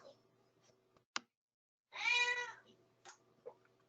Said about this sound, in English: Someone's cat is angry.